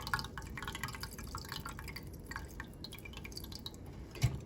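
Liquid drips steadily while being strained to keep pulp out, a soft, fairly faint patter of small drops with one louder drip near the end, no talking.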